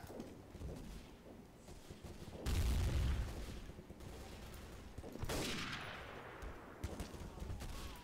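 Gunfire in a Day of Defeat: Source multiplayer match, with a loud burst of shots and a heavy boom followed by more scattered firing in the background, under a low murmur of voices.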